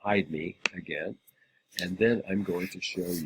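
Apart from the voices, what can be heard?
None of the usual background noises is heard.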